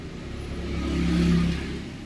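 Suzuki Raider Fi motorcycle engine with its rev limiter removed, a short rising and falling rev with a buzzing tone, close and moderately loud.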